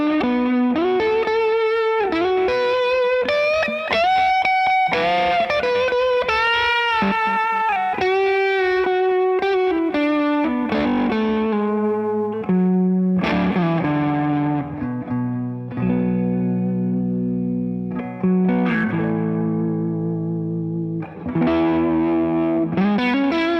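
Electric guitar played through a heavy overdrive, thick distorted notes and chords ringing out loud and sustained, with no voices.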